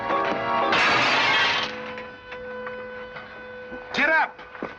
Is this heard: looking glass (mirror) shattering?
yes